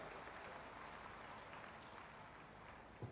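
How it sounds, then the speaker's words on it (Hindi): Audience applause welcoming a government minister at a municipal development project inauguration ceremony, a steady wash of clapping from a large crowd, continuous and fairly distant throughout. "जोरदार तालियों के साथ स्वागत करें माननीय श्री सुरेश खन्ना जी का।"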